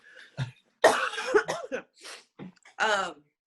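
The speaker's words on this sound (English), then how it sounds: "Sorry, I just got the coughs." Several harsh coughs and throat-clearing bursts, close and loud, in irregular fits separated by short pauses.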